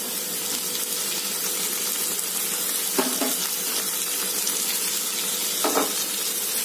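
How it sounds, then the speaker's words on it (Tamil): Onions fry steadily in a pan for chicken biryani, a continuous even sizzle close by with a couple of brief clinks of stirring, no talking. "வெங்காயம் நல்லா வதங்கட்டும்."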